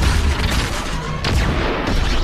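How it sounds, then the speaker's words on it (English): Dense, continuous barrage of rocket blasts from a Mecha in Fortnite, loud booming rumble with overlapping explosions and no pauses, filling the whole stretch without speech. "Mecha is shooting the rockets again."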